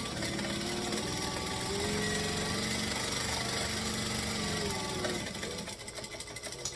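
Sewing machine stitching vinyl along an edge, a steady motor whir running loud and continuous for several seconds before easing off near the end.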